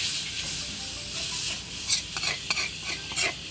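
Holy basil being dry-stirred in a pan with no oil, a steady scraping, rustling stir under a soft sizzle, with a few sharper scrapes of the spatula toward the end.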